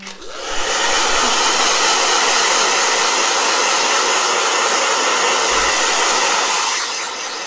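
A blow dryer starts up and runs as a loud, steady, close airy whoosh for several seconds, then winds down at the end, with no talking.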